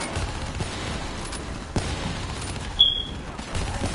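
Gunfire in the Call of Duty: Black Ops 3 campaign: scattered sharp shots and distant bursts over a steady rumbling battle bed, with a few louder cracks standing out and no speech.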